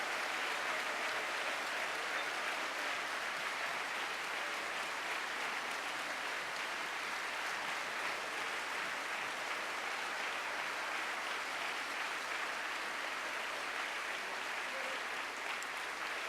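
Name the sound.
audience applause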